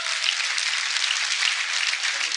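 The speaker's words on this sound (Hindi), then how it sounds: "एक बार आप तालियां बजा दीजिए" An audience at a Hindi poetry gathering with classical singing claps steadily, a dense, even wash of applause lasting a couple of seconds with no voices over it.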